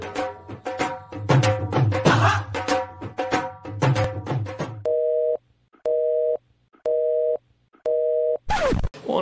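A phone line repeats an electronic tone in four evenly spaced beeps after a stretch of cluttered, busy sound, with a brief sweeping noise at the end.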